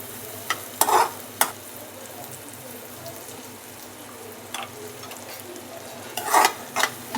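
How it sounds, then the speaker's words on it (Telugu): Egg curry mixture is stirred in a pan over a low background sizzle, with several distinct scraping knocks of the spoon, a cluster near the start and another toward the end. "ఒకసారి ఈ మిశ్రమాన్ని మిక్స్ చేసుకోవాలి."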